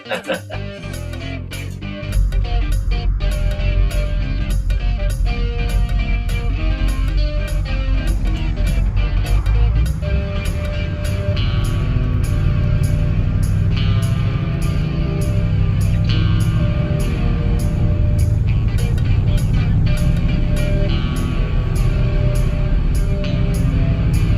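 A lowered 1957 Cadillac Eldorado Seville out on a cruise gives a steady, loud rumble of engine and road noise that fills the whole span from start to finish.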